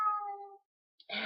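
A male cat demanding food lets out one clear, wavering meow up close, then pauses in silence before a second, rougher and noisier call begins.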